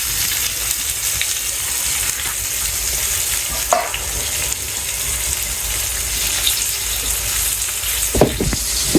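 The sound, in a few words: pointed gourd (potol) frying in a pan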